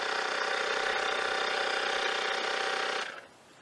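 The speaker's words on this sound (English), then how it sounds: "Our tire pump's been going for a good couple of minutes, about 3-4 minutes now." A small electric tire pump inflating a car tire runs with a loud, steady buzzing drone close by. After about three seconds it cuts off abruptly and fades to quiet.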